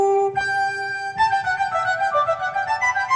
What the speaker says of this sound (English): There are 2 flutes.